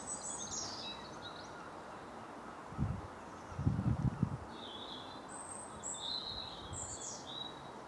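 Birds chirp and twitter faintly in the distance, scattered calls over a soft outdoor hush, with a few low rustling thumps midway.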